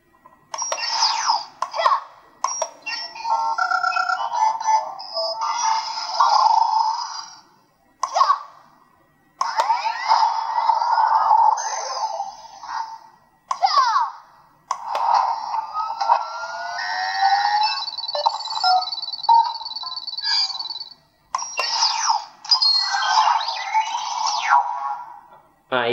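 A Project IRIS toy gadget from Ejen Ali plays bursts of bright electronic beeps, chimes and synthetic voice-like chirps when its button is pressed, with short pauses between the bursts.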